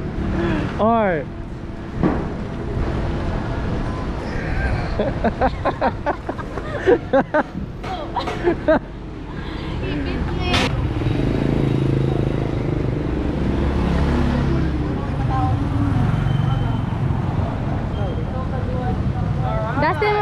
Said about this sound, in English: There's lots of cars.